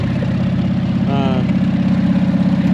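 A McCormick Deering Super W-6 tractor engine idling with no muffler, a loud, steady low throbbing pulse heard close up, with a brief faint tonal whine partway through.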